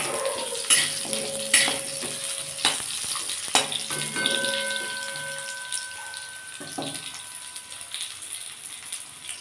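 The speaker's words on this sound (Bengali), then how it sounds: "মূলোটা দিয়ে দিলাম, মূলোটা একটু ভেজে নেব।" Radish pieces fry in a pan with mustard seeds, giving a faint, steady sizzle that runs throughout. Scattered clinks and knocks of utensils sound close by.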